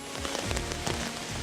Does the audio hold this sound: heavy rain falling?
yes